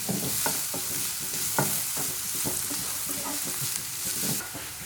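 Egg fried rice tossed and stirred in a hot pan, a steady hiss of frying under a rapid run of spatula scrapes and taps, fairly close and moderately loud, with no talking.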